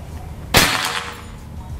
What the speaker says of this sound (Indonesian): Kita lanjut lagi ke tembakan yang kedua.